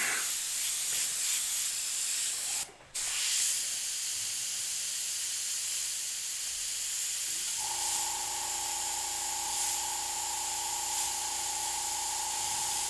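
An airbrush sprays paint with a steady, close hiss that pauses briefly once, then carries on with a faint tonal hum added underneath.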